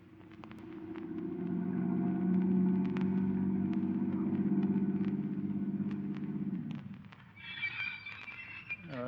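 A car engine runs steadily as a radio drama sound effect, a low harmonic rumble that holds for about seven seconds, then drops away as a brighter, higher texture takes over near the end.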